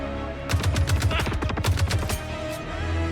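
Gunfire in the Squadron 42 video game: rapid bursts of loud, sharp shots in quick succession with heavy low booms, sounding like automatic fire for about two seconds before stopping.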